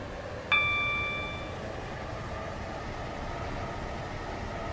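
A Roblox train runs with a steady low rumble, and a bright station chime rings once near the start before fading, with no voices over it.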